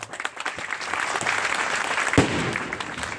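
Loud, sustained applause from a crowd at a political rally in Maharashtra, dense clapping that swells and holds steady, with one sharp bang partway through and faint voices mixed in.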